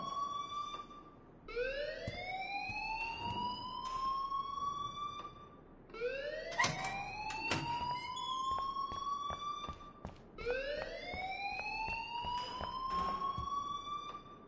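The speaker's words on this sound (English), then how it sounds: "please turn off that alarm since that's your job" In the Life is Strange video game, an alarm sounds as a rising, wailing siren tone, swooping upward three times in slow cycles, fairly loud and steady, with no talk over it.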